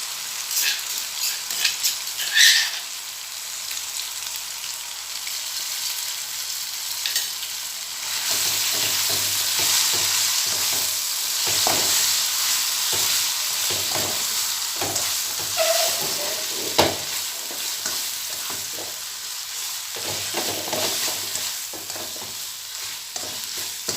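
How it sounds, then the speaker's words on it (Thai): Tamarind chili paste is stir-fried in a pan over medium heat, a continuous close sizzle broken by repeated scraping stirs of the spatula for over twenty seconds. "จะผัดให้จนเขาสุกค่ะจนแห้งนะคะ"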